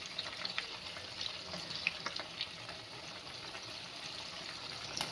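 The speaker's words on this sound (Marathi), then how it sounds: "आता याच्यामध्ये आपण पनीर सोडून घेऊया" Paneer cubes sizzle in a shallow layer of oil as they fry for a chilli paneer starter, a steady crackling hiss with small pops throughout and no talking.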